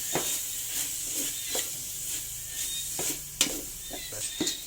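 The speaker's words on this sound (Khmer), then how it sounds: "យើងកូរគ្រឿងឲ្យឈ្ងុយហ្នឹង" Spice paste for a sweet and sour pineapple and pork rib soup fries in a pan, a steady hissing sizzle with repeated scraping strokes and clicks from stirring, heard close, with no talking.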